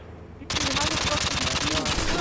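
Rapid automatic gunfire in a video game starts abruptly after a quieter moment and rattles on loud and dense, a fast continuous burst with voices faintly underneath.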